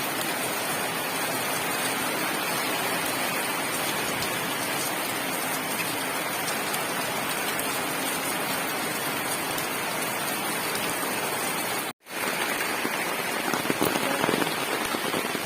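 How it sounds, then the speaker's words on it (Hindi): Heavy rain pounds steadily on surfaces near a house where a group has stopped to rest, a dense continuous hiss with a brief dropout near the end before the downpour resumes. "अभी बारिश हो रहा है"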